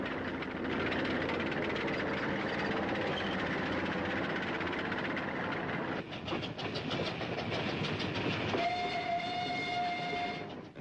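A train rumbles along the rails with a steady rolling clatter, and a sustained horn-like tone sounds near the end.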